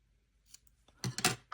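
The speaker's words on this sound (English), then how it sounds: "Let's cut the ends off." Scissors snip the ends off a small piece of tape for a pop-up craft kit, a few quick close crisp cuts in a short burst.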